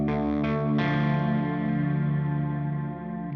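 An electric guitar rings out through the clean channel of a 20-watt amp into an XXL cab miked with a 421, a few strummed chords sustaining with a chorus-like shimmer and slowly fading.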